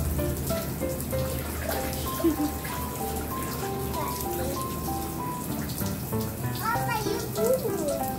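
Water sprays from an inflatable splash sprinkle pad, a baby wading pool toy, in a constant patter like light rain. A voice and other vocal sounds rise over the spray.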